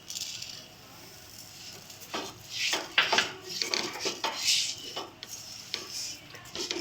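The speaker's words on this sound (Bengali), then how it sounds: "সুন্দর করে সুজিটা ভেজে নিচ্ছি লাল লাল করে" Semolina is fried and stirred in a pan, with irregular scraping and clinking of a utensil against the metal, fairly close and moderately loud over a faint background hiss.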